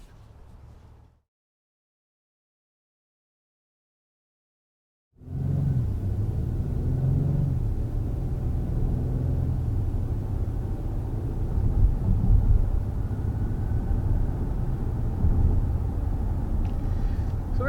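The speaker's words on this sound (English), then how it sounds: "I was just kind of accelerating like most people that are driving an MDX will do" Acura MDX 3.5-liter V6 accelerating in traffic, a steady low engine and road rumble heard from inside the cabin, rising slightly midway, after a brief quiet stretch at the start.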